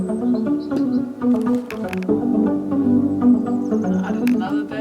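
Synths layered with bass in Logic, a dense, continuous electronic texture of sustained low tones and shifting melodic notes, with occasional bright flickering accents on top, steady and full throughout.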